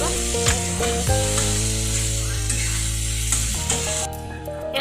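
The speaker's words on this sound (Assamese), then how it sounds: "ইয়াত আমি আলুখিনি দি দিম ফ্ৰাই কৰি ৰাখা" Potatoes sizzling in a pan with fried onions for an egg curry, a continuous loud close-up frying hiss with faint stirring scrapes.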